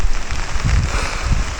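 Heavy rain pours down during a motorbike trip through flooded roads near Garut, Indonesia, a steady loud broadband wash with low rumbling underneath.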